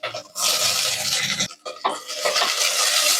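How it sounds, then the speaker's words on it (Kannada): Onions sizzle and fry in hot oil inside a heated pressure cooker, bright crackling bursts broken by brief stirring scrapes and a short pause, close and loud. "ಕುಕ್ಕರ್ ಬಿಸಿ ಆಗಿದೆ, ಆಯಿಲ್ ಹಾಕೊಂಡಿದ್ದೀನಿ. ಆಯಿಲ್ ನಿಮ್ಗೆ ಎಷ್ಟು ಬೇಕು ನೋಡ್ಕೊಳ್ಳಿ. ಆಯಿಲ್ ಬಿಸಿ ಆಗ್ತಿದ್ದಂಗೆನೆ ಆನಿಯನ್ ಹಾಕೋಬೇಕು."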